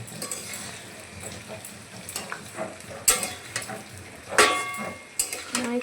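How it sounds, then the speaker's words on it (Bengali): Pointed gourd frying in a pan in a home kitchen, with a steady low sizzle, intermittent stirring scrapes and a few sharp utensil clinks against the pan. "পটল ভাজছে"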